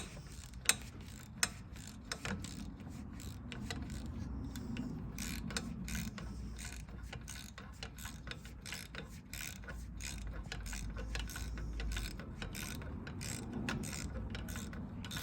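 Metal-on-metal clicking, scraping and mechanical rattling as a roll pin is worked out of a CanAm P-clutch, a steady run of small close taps and clinks over a low background hum, with no talking.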